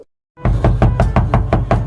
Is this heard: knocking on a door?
yes